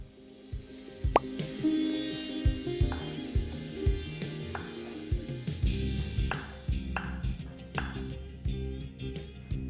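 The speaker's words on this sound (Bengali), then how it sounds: "এবারে একইভাবে আমি বাকি মাশরুমগুলো কেটে নিচ্ছি।" Knife chopping mushrooms on a board, a run of close, sharp plops and taps in an uneven rhythm, with no talking.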